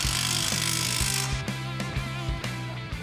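A pneumatic impact tool rattles in quick repeated bursts, loud and close, snugging coilover suspension bolts on a Can-Am Baja Bug conversion, the buzzing hammer broken by brief pauses roughly every half second.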